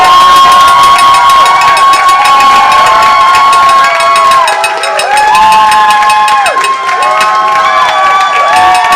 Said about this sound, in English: Let's hear it by audience applause.